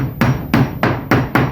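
A hammer strikes wooden boards during house building, landing five sharp, loud, close blows at a fairly even pace, each with a short woody thud and no speech.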